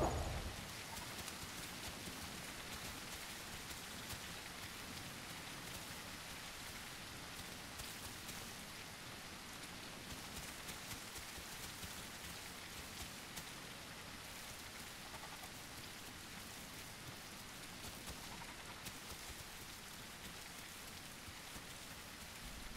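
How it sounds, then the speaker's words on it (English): Rain falling in the survival video game The Isle Evrima, a continuous even wash of dense droplet hiss that carries on steadily throughout, soft and ambient, with no voices. "Gotta walk into nowhere in the rain ASMR"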